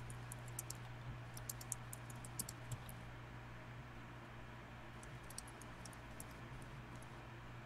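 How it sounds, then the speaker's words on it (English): Quiet computer keyboard typing, a scattering of light clicks in two short bursts over a steady low hum, with no talking. "I was typing."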